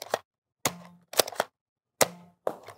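A Nerf Dinosquad Terrodak blaster fires foam darts in a quick volley of five sharp, loud pops with short, uneven gaps between them, heard close up against silence.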